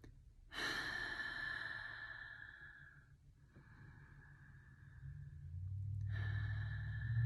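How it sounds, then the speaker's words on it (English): Slow deep breathing during a relaxation exercise, a long close inhale and exhale followed by another drawn-out breath, soft and alone without talk. "take some deep breaths."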